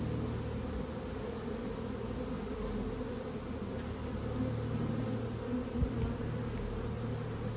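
Honeybees from a package colony buzz steadily and fairly loud during a hive check on day 14, a continuous dense drone with no talking.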